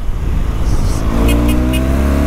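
A BMW 1200 motorcycle revs hard through its exhaust pipe, close and loud. The engine note climbs steadily toward the end, with a throaty, booming character.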